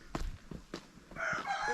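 A rooster crows at a rural Nepali farmstead in a short, loud, clear call. Other birds can be heard around it.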